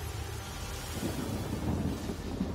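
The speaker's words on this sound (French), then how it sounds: "je mets un petit coup de petite pluie" Rain spell cast in Divinity: Original Sin Enhanced Edition, a steady broadband wash of rainfall with low rumbling, loud and continuous throughout without any talking.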